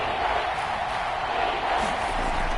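Stadium crowd noise in a football video game, with a Seahawks home crowd in the red zone, forms a dense, steady roar of massed voices throughout, loud and unbroken.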